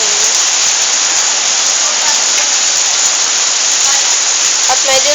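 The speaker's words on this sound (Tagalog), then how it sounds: "At medyo lumalakas ng ulan ulit." Heavy rain pours down steadily in a flooded home garden, a dense continuous roar of water hitting surfaces that stays loud throughout, with a faint voice briefly audible near the end.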